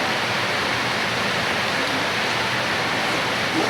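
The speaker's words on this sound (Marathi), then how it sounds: "तुम्ही कुठल्या तुमच्या घराच्या चाळणीने याला गाळून घ्या व्यवस्थित" Dry ingredients for a ripe-banana cake are sifted through a household sieve, making a loud, continuous rushing hiss with no pauses and no voices.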